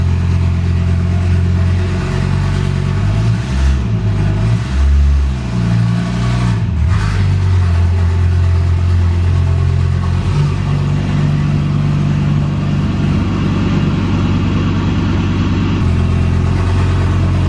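A Skoda Octavia vRS fitted with a Daza-sourced Audi RS3 engine revs loud and close as the car drives off, with rising and falling pulls over a steady rumble, running continuously without talk.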